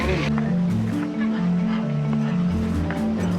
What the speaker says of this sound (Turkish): Kazlar var. Tavukçuklar var.